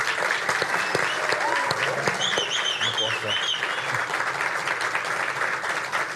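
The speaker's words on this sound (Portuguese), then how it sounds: "Vamos bater palma para nós, vai." A live studio audience at an SBT Rio special broadcast applauds in a loud, sustained round of clapping, with voices and a few whoops mixed in beneath.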